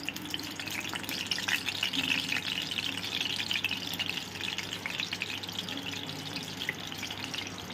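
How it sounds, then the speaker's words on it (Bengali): Butter melts into hot white oil in a kadai, giving a soft, steady crackling sizzle at moderate volume with light scraping and stirring throughout and no voices. "আমি কড়াইতে সাদা তেল দিয়ে দিয়েছি একটু এবার এর মধ্যে আমি বাটার মিশিয়ে দিচ্ছি"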